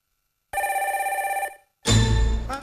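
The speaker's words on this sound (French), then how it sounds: "Bon, téléphone pour Nangai, d'abord" A telephone bell rings loud and close in two bursts, a rapid trilling ring of about one second, a short pause, then a second harsher ring, with no voices.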